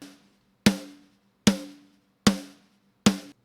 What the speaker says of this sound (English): So here's my snare, just only the snare without anything.